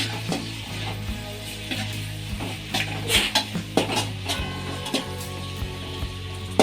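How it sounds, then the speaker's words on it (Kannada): Onion and green chillies fry in hot oil for egg rice, a steady sizzle with scraping stirs and clinks of a utensil against the pan throughout, no voices. "ಈರುಳ್ಳಿ ಸ್ವಲ್ಪ ಫ್ರೈ ಆಗಬೇಕು"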